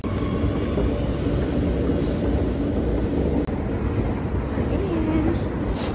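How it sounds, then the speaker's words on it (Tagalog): A metro train rumbles steadily and loudly close by, a continuous low roar of wheels and carriage that holds through the whole stretch, with a brief dip partway. "Abutan natin yung tren."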